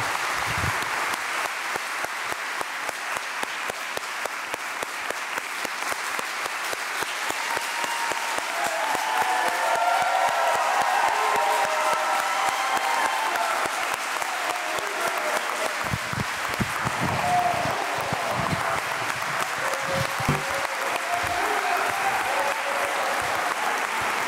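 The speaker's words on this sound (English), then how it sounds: "Can we give to the Holy One a round of loving applause to the Holy One" A church congregation applauds, a sustained round of clapping from many hands that swells in the middle and then thins out, with a few scattered voices.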